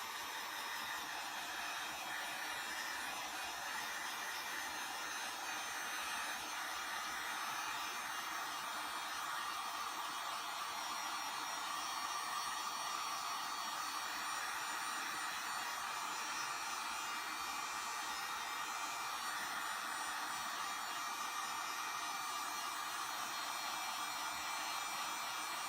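Hair dryer blowing steady hot air at a thin plastic skull stencil from a distance, a continuous, even whoosh with a faint electric hum running unbroken throughout, no voices present.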